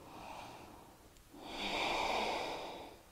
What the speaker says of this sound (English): Deep breathing.